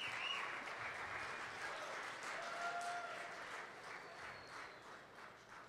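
Audience at a Steubenville 2016 Rockies youth conference claps together in a sustained wash of applause that slowly fades over several seconds, with no one speaking.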